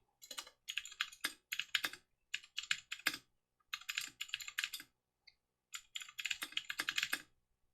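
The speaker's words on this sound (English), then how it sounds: "So now I've got my keyboard ready, switch back to the Raspberry Pi." Fingers type on a computer keyboard in quick, crisp bursts of key clicks, pausing briefly between runs, close and clear with no talking.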